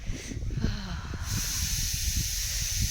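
A pressure cooker on the stove releases a steady, sharp hiss of steam that grows stronger and more continuous partway through, with faint low background rumble.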